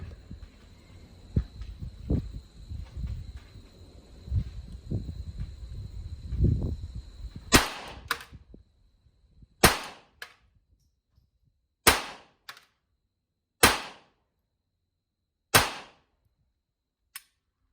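Gunshots at an outdoor shooting range while sighting in a pistol fitted with an Olight Baldr Mini light and green laser: five loud, sharp reports spaced about two seconds apart, each with a short ringing decay, after a stretch of low handling noise.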